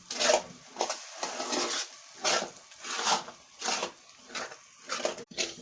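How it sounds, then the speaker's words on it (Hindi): A spoon stirs makhandi halwa in a pan, scraping in repeated rhythmic strokes of about one per second, close and clear. "इसको साथ साथ चम्मच चलाते रहना।"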